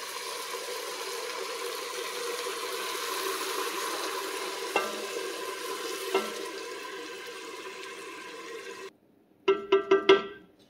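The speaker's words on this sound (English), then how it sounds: "now we're going to add 2 cups of wine" Wine poured into a pot of roasted tomatoes for soup, a steady sizzle and hiss over several seconds that fades out, followed by a few short clinks or taps at the end.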